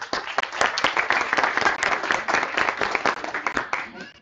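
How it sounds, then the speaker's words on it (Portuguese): A crowd claps and applauds steadily for several seconds, dense and lively, fading slightly toward the end. "uma salva de palmas aqui"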